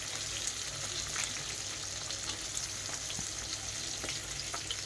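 Ginger and garlic sizzle steadily in hot oil in a pan, a continuous close crackling fry with small pops and no talk.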